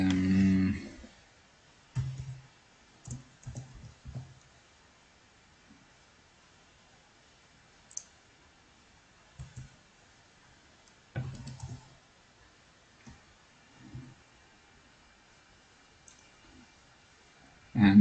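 Mouse clicks on a computer come in short isolated taps and small clusters, spaced irregularly across near silence, with a louder burst at the start and end.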